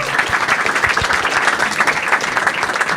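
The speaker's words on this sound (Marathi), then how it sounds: "एकदा या दोघांसाठी टाळ्या होता सगळं." An audience at a Marathi stand-up comedy show claps in a sustained, dense burst of applause that stays loud and even for about three seconds.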